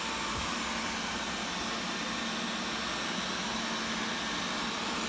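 A ZOOZEE robot vacuum cleans a room with rug, hardwood and ceramic tile floors. It gives a constant, even whirring hiss that stays steady throughout, with no talking.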